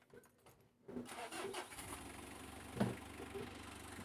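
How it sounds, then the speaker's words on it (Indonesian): A Mitsubishi L300 engine cranks and fires up after a radiator repair, a short starter whir followed by a rough catch and steady mid-pitched idle, heard close with a brief clunk partway through and no talking. "Oke, mesin sudah hidup."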